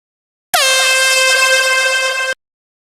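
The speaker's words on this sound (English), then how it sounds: "Hey, who blasted that air horn?" A single loud air horn blast, a steady blaring tone held for about two seconds close by, starting and stopping abruptly with silence around it.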